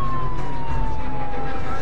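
A steady emergency siren wails continuously over low traffic rumble, loud and close, with a single sustained tone gliding slowly downward.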